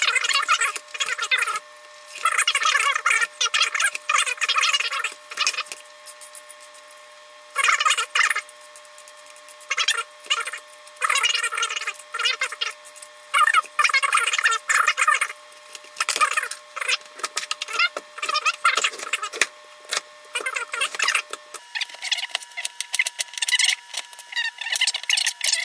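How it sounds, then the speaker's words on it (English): Daikon radish peeled with a vegetable peeler, a string of close, crisp scraping strokes in irregular bursts separated by short gaps. "We're just going to take a peeler and just peel it."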